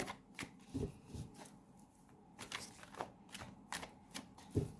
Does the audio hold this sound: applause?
no